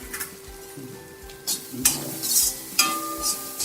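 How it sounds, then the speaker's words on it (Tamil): Coconut roasts in a pan and is stirred steadily, bringing soft bursts of sizzle and scraping along with a few clinks of a utensil against the metal, close by and without any speech. "தேங்காய் வறந்து நல்ல சிவப்பு கலர் ஆகணும் கையிடாமல் கிண்டணும்"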